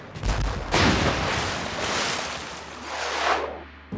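Cannons boom in heavy, rumbling blasts, one near the start and another about a second in, their long roaring tails rolling and swelling like distant fire before fading out.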